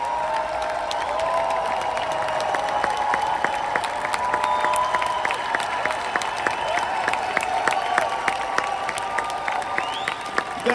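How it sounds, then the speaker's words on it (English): Crowd at a motivational event claps and cheers steadily, a dense wash of applause with occasional shouts and a voice calling out over it. "Stand up and clap in that section."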